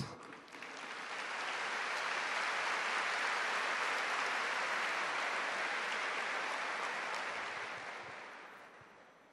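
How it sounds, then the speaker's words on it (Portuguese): A church congregation at a Holy Mass claps together during the homily, the applause swelling in over the first seconds, holding steady and easing off at the end, moderately distant and soft. "aplaude essa palavra"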